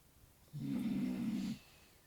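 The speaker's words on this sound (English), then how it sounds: "And now he's snoring." A pet named Mr. Tubbs snores once, a single low, steady rasping breath lasting about a second, close and fairly quiet with no talking.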